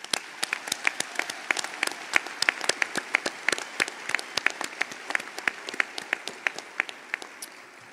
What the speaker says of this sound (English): Let's give you all another round of applause.